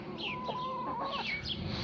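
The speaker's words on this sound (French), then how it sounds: "j'ai une poule qui couve" A brooding hen sitting on eggs clucks softly and repeatedly nearby, a low murmuring series of short calls over faint background noise.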